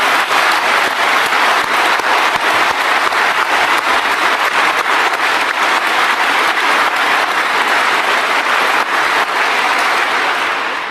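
Sustained, dense applause from a large audience at a 2019 Brexit Party conference in Telford, loud and steady for the full length with no talk over it.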